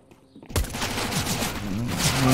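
Rapid bursts of Counter-Strike: Global Offensive gunfire on the Inferno map erupt suddenly after a quiet moment, sharp and dense shots continuing loudly.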